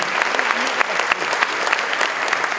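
Steady applause from a crowd at a Téléthon charity launch event, dense clapping throughout with no pauses, fairly loud and close.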